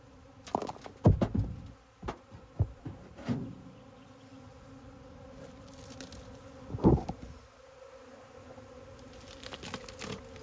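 Honeybees from a swarm settling into an empty hive box buzz softly and steadily, with a few louder close passes and bumps near the microphone, and no talking.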